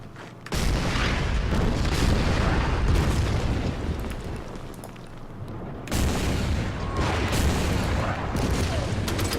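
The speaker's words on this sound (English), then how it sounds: "I'm gonna hit them with artillery." Artillery fire in the wartime strategy game Order of Battle: Panzerkrieg, set around Kharkov in 1942, heavy rumbling booms and volleys rolling continuously for several seconds, with a fresh loud barrage near the end.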